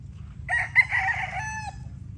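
A rooster on a gray-plumaged straight-combed farm bird crows once, a clear near call lasting over a second with a rising then held tail, over steady low background rumble.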